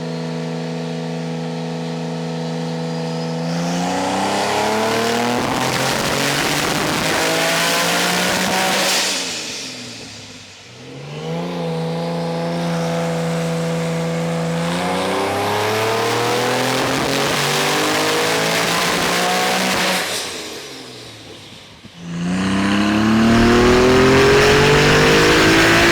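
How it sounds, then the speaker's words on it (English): A tuned Porsche ES1500 engine running on race fuel revs hard on a dyno, climbing through two long loud pulls with rising whine, dropping back each time, then surging again near the end. "we've got Danny's ES1500 getting prepped for the dyno"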